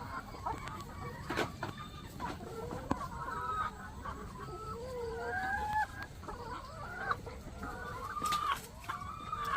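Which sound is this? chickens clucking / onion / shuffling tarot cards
chickens clucking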